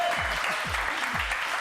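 Studio audience applause on a French TV talent show, a dense, loud, steady clapping that fills the whole short stretch without pause.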